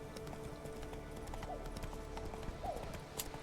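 Roach, Geralt's horse in The Witcher 3, clip-clops along with steady hoofbeats and lets out a couple of short whinnies, fairly faint against a low ambient game backdrop.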